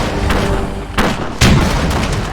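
Artillery in the strategy game Battle Realms fires two loud booming shots about half a second apart over steady battlefield ambience, with no talk.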